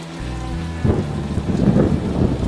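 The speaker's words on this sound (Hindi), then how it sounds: "उस रात फिर तेज बारिश शुरू हुई" A cartoon sound effect of heavy rain with thunder, starting as a low rumble and building into a steady downpour with crackling drops, with no voices.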